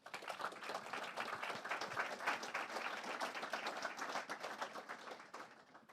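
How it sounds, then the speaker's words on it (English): A conference audience gives a sustained round of applause, many hands clapping densely and evenly for several seconds at a moderate distance, with no talking over it. "Please give them a round of applause"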